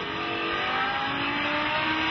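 BMW M car accelerating hard around a cone-marked driving course, engine note steady and loud throughout, close and continuous with no talk.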